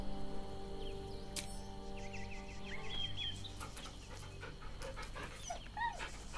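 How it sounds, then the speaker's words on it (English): Scratch the dog in Baldur's Gate 3 pants quickly and rhythmically up close, with light whimpers and bird chirps scattered in the background. "The dog wags his tail, a small bag clenched between his teeth."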